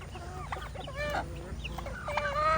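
Farm chickens cluck and squawk in quick, overlapping bursts close by, a steady busy chatter while a dog circles around them.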